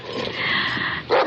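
A Bulldog gives a drawn-out, growling bark-like vocalization, loud and close, followed by a sharper burst at the end.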